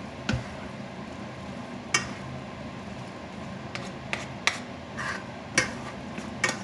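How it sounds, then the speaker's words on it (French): Tagliatelle with leek fondue and shrimp being stirred in a pan, with a low steady sizzle and several soft scraping clicks at irregular intervals. "Et je vais laisser recuire jusqu'à ce que les pâtes, cette fois, soient cuites."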